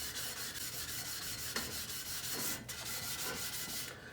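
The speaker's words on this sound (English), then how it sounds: "now I switched it to 800 grit from the 400" A mag wheel is hand sanded with 800 grit sandpaper: a steady, close, scratchy rubbing that continues for a few seconds with slight swells in intensity, and no voices.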